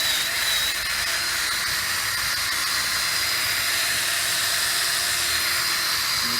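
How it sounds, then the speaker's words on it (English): A power drill with a polishing pad buffs a foggy car headlight, giving a steady, loud whirring hiss that runs unbroken from start to finish with no talk over it. "A little hard to control the drill sometimes, but that's okay."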